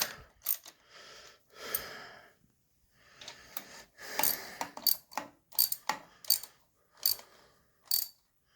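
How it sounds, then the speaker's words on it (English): Bolts are tightened on the starter bell housing of a Cletrac HG-68 crawler tractor, with bursts of close ratchet clicking and short metallic turning sounds separated by brief pauses. "So then we'll tighten our bolts down here."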